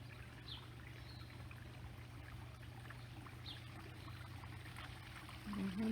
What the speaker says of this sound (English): The wonderful sound of the pond.